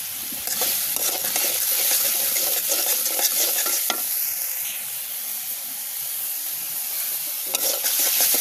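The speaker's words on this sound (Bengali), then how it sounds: "সবগুলো উপকরণ আমি ভালোভাবে কষিয়ে নিব।" Ground turmeric, chili powder and spice paste being stirred and fried in a pan for a village-style egg curry, a continuous close, loud sizzle with steady scraping of the spoon throughout.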